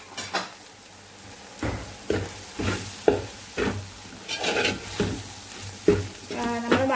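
Masala goes into beef curry frying in a pan, a soft sizzle under repeated scraping stirs and spoon clinks against the pan, roughly one stroke per second, close and moderately loud.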